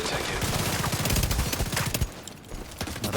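Rapid rifle fire from the CTAR in The Division 2, a dense burst of fast repeated shots close and loud that tapers off after two seconds, with speech faintly mixed in.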